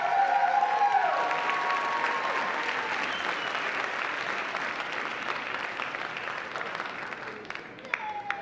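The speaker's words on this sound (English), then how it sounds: "Let's give another round of applause to Sealaska Kwan Heritage Dancers." At a heritage celebration, a crowd applauds the Sealaska Kwan Heritage Dancers with sustained, even clapping that stays strong throughout and thins a little near the close.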